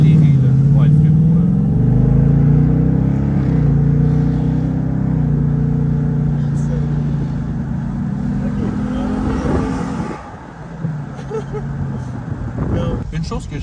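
A 2024 Ford Mustang GT convertible accelerates with a loud, steady engine drone that rises and holds, then eases off near the end, heard close from inside the car.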